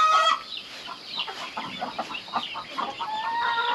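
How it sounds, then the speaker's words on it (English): A group of broody hens gathered at a favorite nest, giving soft, close clucks and low murmuring calls in an irregular patter, fairly quiet throughout. "So we have a whole group of broody hens over here."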